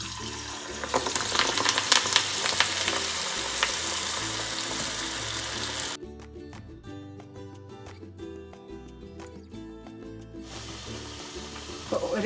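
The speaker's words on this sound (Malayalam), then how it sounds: "ഇതിപ്പോൾ നന്നായി പൊരിഞ്ഞുകൊണ്ടിരിക്കുന്നുണ്ട്." Koyikkaal dough frying in boiling oil, a dense close crackling sizzle during the first half that then drops to a quieter, thinner bubbling, with no voices.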